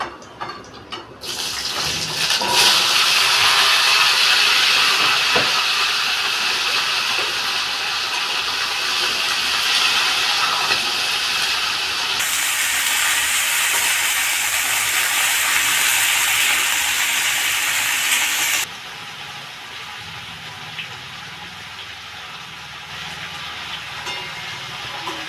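Pumpkin, potato, eggplant and radish tipped into hot oil with five-spice tempering give a loud, steady hiss that runs unbroken, stepping down in strength near the end but continuing as a softer sizzle.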